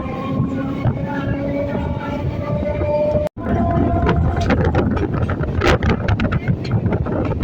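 Train on the Budge Budge line pulling into Tollygunge station: steady rumble and rhythmic wheel clatter from inside a moving carriage, with wind buffeting the microphone and a brief cut in the middle.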